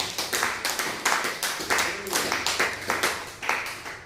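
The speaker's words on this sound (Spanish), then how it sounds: "Aplauda fuerte el nombre de Jesús." Church congregation clapping in a steady rhythmic beat at a worship service honoring the name of Jesus, loud and close, with voices calling out over the claps.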